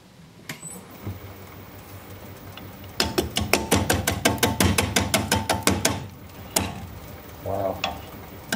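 Wood lathe turning a honeysuckle root bowl at 340 RPM with a 5/8 inch bowl gouge, a low motor hum with a fast series of loud rhythmic knocks as the gouge hits the rough, rocky rotating root.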